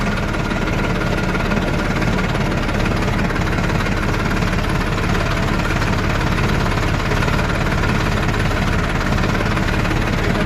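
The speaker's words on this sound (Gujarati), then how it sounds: "આ ટ્રેક્ટર ચાલુ છે" A tractor engine runs steadily at idle in a tobacco field, a loud continuous low rumble with rhythmic knocking throughout, no voices.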